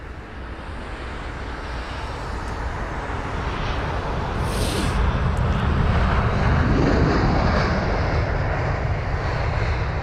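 A Finnair Airbus A320-200 arriving at London Heathrow, its engine roar building steadily and peaking as it passes close by, with a brief high whine and wind noise over the microphone.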